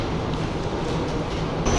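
Moscow metro subway train running underground, a steady loud rumbling roar of wheels and carriage noise throughout, with no talk.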